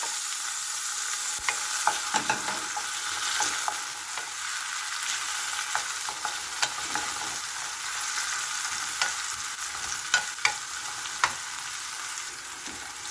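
Tomatoes hit a hot pan after garlic, onion and ginger, sending up a bright, loud, continuous sizzle close by, broken by repeated clicks and scrapes of a utensil stirring against the pan, with no voices.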